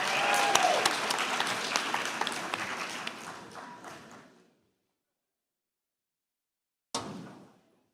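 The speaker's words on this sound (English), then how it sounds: "How about one more round of applause for all of our graduates today?" Graduation ceremony crowd at MGA's 2021 commencement applauds loudly, then the clapping gradually fades to silence. A short second burst of claps follows after a pause.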